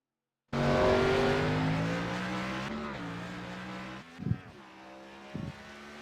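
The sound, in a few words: race car coming out on the Richmond track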